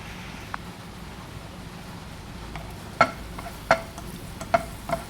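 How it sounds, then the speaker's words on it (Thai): Faint, steady sizzling of crushed garlic frying in a hot pan, broken by a few sharp clicks and scrapes of a utensil against the pan. "จียวกระเทียมก่อนนะคะให้กระเทียมเหลืองหอมก่อน"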